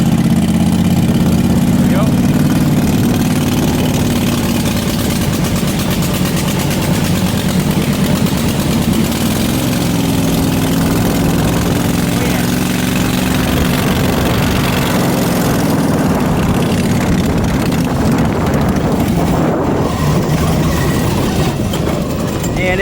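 A Predator 670 engine on a Yerf Dog kart runs loud and close with a low, uneven, lumpy drone, as if the choke came off too soon, and the note shifts and thins toward the end.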